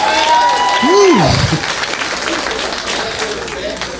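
A comedy club audience breaks into applause and cheering at a stand-up show, starting with a loud whoop and a rising vocal cheer, then settling into a dense spread of clapping.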